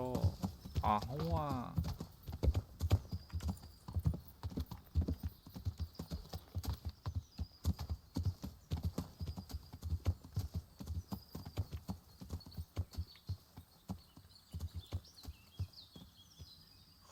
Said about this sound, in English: Corre, caballo, corre. Corre, guijarro. Flota como el viento, guijarro.